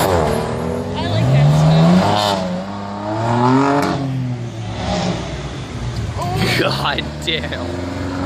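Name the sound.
car doing a burnout and revving engine at a car show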